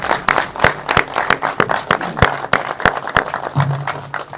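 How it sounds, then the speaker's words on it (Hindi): A small audience at a Hindi book discussion applauds the chief guest and author, close, distinct rhythmic claps from a few people, fairly loud and with no voices over them. "उनके लिए बहुत अच्छी तालियां बजाने की कृपा करेंगे"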